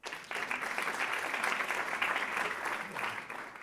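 An audience at a climate talk in Monterey breaks into steady applause, dense clapping that starts abruptly and holds at even strength for several seconds, fairly near and without speech over it.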